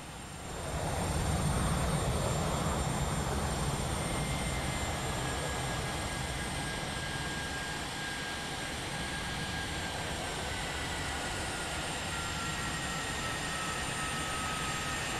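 Boeing 737 jet engines spool up to power in the X-Plane 11 flight simulator, a steady loud whine and broad roar with rising high tones that holds continuously throughout.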